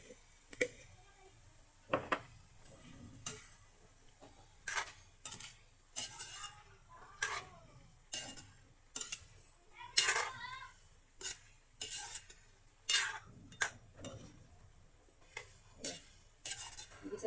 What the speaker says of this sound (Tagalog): Igisa lang natin ito mga sis kahit mga 5 minutes